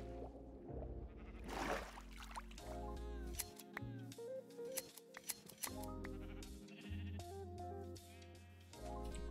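Minecraft sheep bleating in the game world, a few short nasal bleats standing out over background game music and other in-game sounds.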